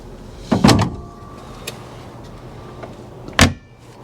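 A car hood on a Chevrolet Corvette C4 is handled, with a sharp clunk near the start, quiet shuffling, and a second latch-like thunk near the end, all close and without talk.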